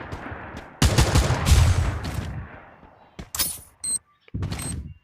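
Bursts of rapid gunfire in the video game Free Fire, loud and close, with a few sharp shots and brief pauses between volleys.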